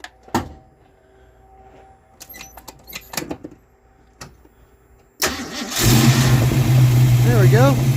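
Ford Mustang with a carbureted engine and a recurved Duraspark 2 distributor: quiet handling noises and clicks, then a sudden crank and start that catches into a loud, close idle, with revving swells toward the end.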